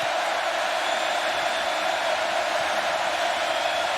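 A packed Kyle Field stadium crowd roars at a Texas A&M college football game against Clemson in 2018, a loud, unbroken wall of hissing crowd noise sustained evenly throughout.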